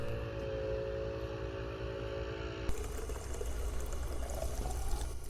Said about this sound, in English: I love filling up my water at these things.